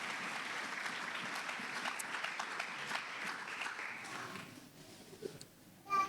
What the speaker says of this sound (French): Est-ce qu'on peut acclamer notre ressuscité là?